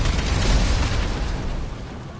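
A vehicle explodes in GTA 5, a loud broadband roar that rumbles on and slowly fades over a couple of seconds, with no voices over it.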